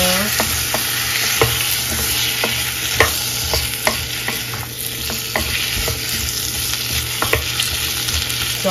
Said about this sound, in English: I'm gonna put my carrots and my potatoes in there. Stir it up a little.